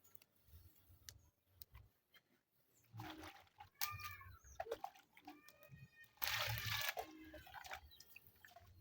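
Tomatoes and onions are rinsed and handled in water at an outdoor village kitchen in East Africa, with soft intermittent splashes and drips close by, a rooster crowing faintly in the background and no talk.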